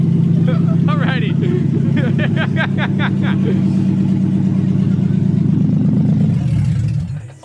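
A Nissan 370Z engine runs on open headers with no exhaust, a loud raw idle-to-rev drone with a string of sharp blips in the first few seconds, close by, then a settled roar before cutting off, with voices faintly behind it.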